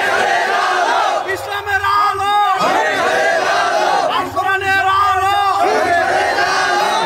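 Large crowd at an Islamic religious sermon gathering shouting slogans in unison, two loud swelling chants with voices rising together and falling back between them.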